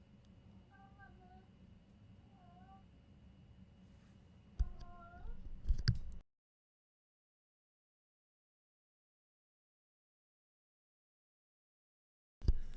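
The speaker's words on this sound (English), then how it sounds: "My cat was chatting." A house cat meows several times in short rising calls over a low steady hum, followed by a louder burst and then silence, with another brief noise at the very end.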